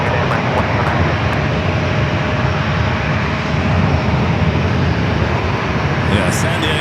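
An American Airlines jet at San Diego airport roars loudly and steadily, its broad engine rumble filling the scene without a break.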